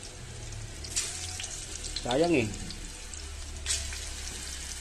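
Soft steady sizzling of bananas frying in oil, with a brief voice and a few clinks of utensils.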